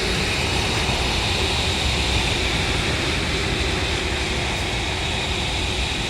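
An airplane takes off from an airfield in a Trailmakers-style vehicle-building game, its engine giving a steady, loud, unbroken roar for several seconds with no voices over it.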